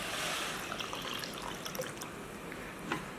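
Water poured into a pressure cooker holding pearl millet flour, a steady close trickle and splash lasting a few seconds with no one talking.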